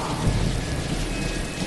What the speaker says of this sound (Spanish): el sonido de la lluvia se escuchaba aún más fuerte que antes